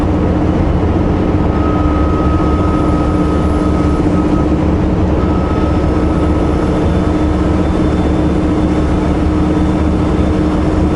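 A heavy truck engine droning on a highway after a two-gear downshift, a loud, continuous low rumble with a steady whine, with no talk.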